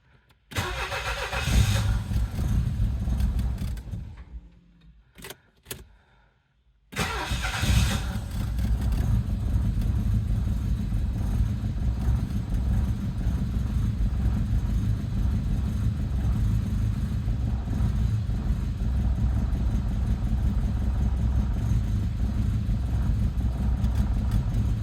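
A 1982 Saab 900 Turbo barn find cranks and fires after a brief stall and restart, then settles into a steady, rough-edged idle that drones on alone at close range.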